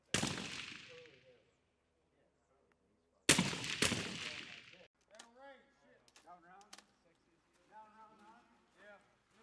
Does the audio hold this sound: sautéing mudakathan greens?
no